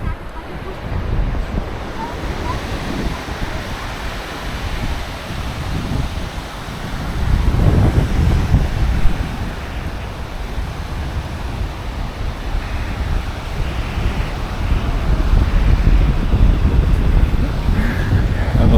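Ocean surf breaking on a beach in Florianópolis, a steady wash of rolling waves with wind buffeting the microphone, swelling louder midway and again toward the end, with no voices.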